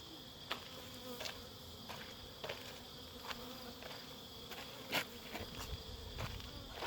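Honey bees buzz and drift around a truck loaded with hives, a continuous faint droning hum with individual insects passing close now and then, outdoors and without speech.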